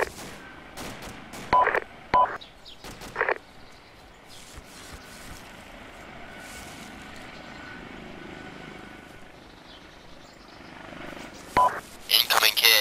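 A Ka-60 helicopter approaches in a military video game: a steady, droning rotor rumble holds throughout, under players talking over radio with short beeps and clicks.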